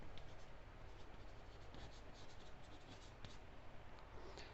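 A pen writes out a trigonometry solution on paper. Close, quiet scratching strokes come in irregular bursts, with no talking.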